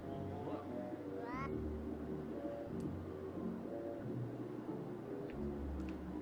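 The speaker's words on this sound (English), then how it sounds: "And there goes the cat." Cat meowing in the Pac-Man 2: The New Adventures video game, a short rising cartoonish meow early on, followed by game music and sound effects.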